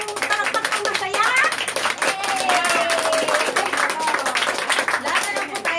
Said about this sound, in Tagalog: Yan ang palakpak ng masaya!